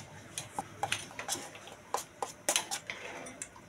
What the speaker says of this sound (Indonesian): Pelan-pelan kita aduk.